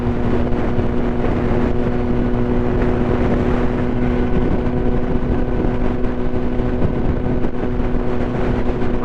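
Motorcycle on its first ride of 2023 producing a steady engine drone with broadband road and wind noise, continuous and loud throughout with no pauses or voices.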